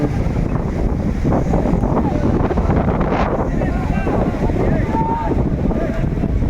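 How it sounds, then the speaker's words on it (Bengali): Strong cyclone wind roars and buffets the microphone without a break, while rushing river waves churn underneath at a breached embankment in Tazumuddin. "বাতাসের গতি নদীর ঢেউ ততই বেড়ে চলছে"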